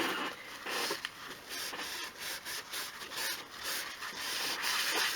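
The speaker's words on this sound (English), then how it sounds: "So just rub it in, circular motions, and it is such dry wood that that's just soaking right in" Kitchen towel rubbed in circular motions over dry wood on a 1/12 scale miniature craft shed, a steady close-up scratchy rubbing with soft rhythmic swells.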